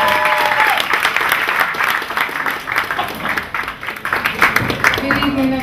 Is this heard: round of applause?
yes